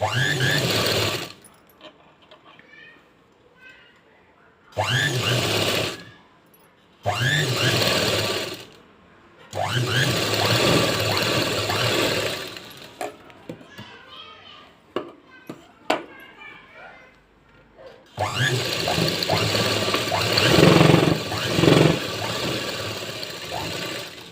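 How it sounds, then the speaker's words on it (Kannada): An electric sewing machine stitches a blouse seam in several bursts of steady, close mechanical whirring separated by pauses, with someone talking in between. "ಈ ಪಾರ್ಟಿಗೂ ಈ ಸೈಡ್ ಪಾರ್ಟಿಗೂ ಕೂಡ ಸೇಮ್ ಆ್ಯಸ್ಟೀಸ್ ಹಾಫ್ ಇಂಚ್ ಡಿಸ್ಟೆನ್ಸಲ್ಲಿ ಎರಡು ಸ್ಟಿಚಸ್ನ ಹಾಕೋಬೇಕು"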